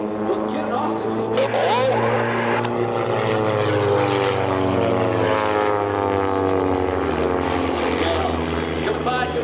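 Two RV-8 aerobatic propeller airplanes fly a rolling pass at the EAA AirVenture airshow. A loud, continuous engine roar shifts in pitch as they sweep by, with an announcer talking over it.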